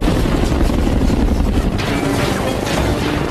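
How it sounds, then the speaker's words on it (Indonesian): Military helicopters bombarding a place in the film xXx (2002): dense, loud, continuous rumble of explosions and gunfire under a rotor-like roar, with no talk. "tiba-tiba beberapa helikopter militer datang dan mulai membombardir tempat tersebut"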